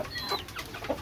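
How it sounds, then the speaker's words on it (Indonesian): Roosters cluck briefly inside a bamboo coop, giving a few short, fairly close chicken calls over faint farmyard background. "Ayam jago masih araya."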